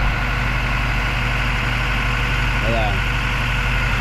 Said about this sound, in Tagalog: sobrang yanig yung makina